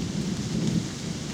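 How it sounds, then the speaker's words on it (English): Heavy thunder rumbles low and continuous through a woodland rainstorm, with rain pattering on leaves overhead; a steady, fairly distant roll with no talk. "Heavy thunder and lightning"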